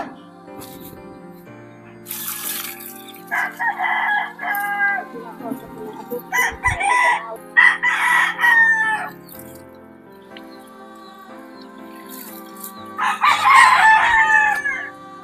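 Roosters crow repeatedly, some close and loud, others farther off, while hens cluck and cackle in between; voices murmur faintly in the background.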